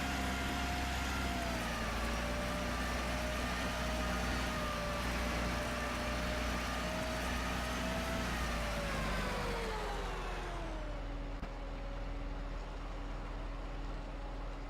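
A John Deere 8400 tractor engine in Farming Simulator 15 drones steadily and loudly with a constant hum, its pitch sliding down near the end as the revs drop.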